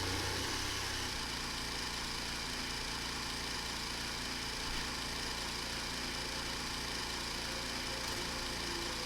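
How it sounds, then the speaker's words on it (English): Formula 1 race car engines are fired up in the game F1 25, giving a steady, dense, high-pitched engine hum that holds evenly throughout with no talk over it. "Okay, engines fired up."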